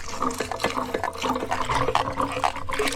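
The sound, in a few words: coffee pulping machine rolling cherries with water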